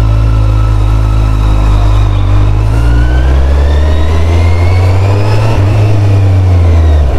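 A Kawasaki Z800 engine runs loud and close, its deep throb rising and falling with revs as the tone climbs and settles over several seconds, with no voices.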